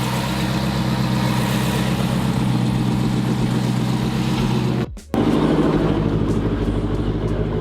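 Jeep Grand Cherokee SRT engine idling after a spark plug replacement, a steady low rumble heard close, briefly cut out near the middle before resuming at an even idle.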